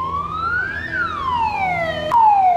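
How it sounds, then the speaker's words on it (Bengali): An ambulance siren wails close by in a busy street, its pitch rising and then falling in a sweep that carries over a low traffic murmur. "একটা অ্যাম্বুলেন্স যাচ্ছে"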